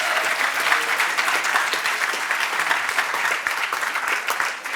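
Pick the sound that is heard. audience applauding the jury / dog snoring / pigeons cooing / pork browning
audience applauding the jury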